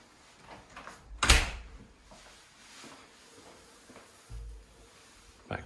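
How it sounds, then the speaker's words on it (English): Double glazed door in a house opening and closing: one loud sharp clunk early, softer rustles and handling, then a low thud and a final knock, with no talking. "So back through the double glazed door into your kitchen."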